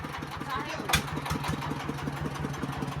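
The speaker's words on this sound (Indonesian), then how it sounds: "Dul, traktormu sing berapan di." A diesel tractor engine runs close by with a steady, rhythmic chugging idle and a brief louder burst partway through.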